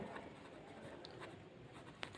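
Faint pen or pencil scratching on paper as a math problem is noted down, soft and continuous against a low background hiss, with no talking.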